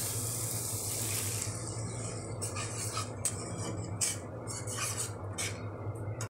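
Water goes into a pan of simmering egg curry with a close, bright splashing rush, followed by clinking of a utensil against the pan in short irregular taps. There is no talking.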